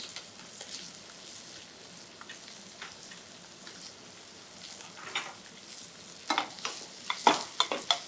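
Butter sizzles in a pan around skate wing, a soft, steady frying hiss that grows into sharper spitting and crackling pops over the last couple of seconds, with no speech.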